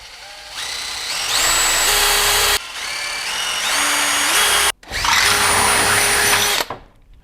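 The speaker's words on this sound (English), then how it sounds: "drill out these alternate holes here in the front of the side skirt." A power drill with a 17/64 bit bores holes into a C7 Corvette Grand Sport side skirt, loud and close, the motor whine rising in pitch as it spins up, in three separate bursts with brief stops between.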